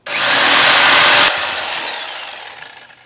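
A power drill bores a hole during a tub drain demolition, a loud high whine that rises, holds steady, then drops in pitch as it spins down and fades over about three seconds.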